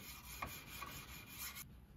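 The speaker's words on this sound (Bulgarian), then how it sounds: "Ръчната работа по шлайфане на ножа е доста продължителна" A knife blade is sanded and polished by hand with abrasive paste, giving a steady, close rasping rub in repeated strokes that stops near the end.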